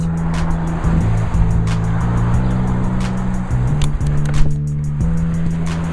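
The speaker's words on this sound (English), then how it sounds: "Oh, so many cars." Cars pass by with loud, shifting engine tones that step up and down in pitch, overlapping one another against a busy background.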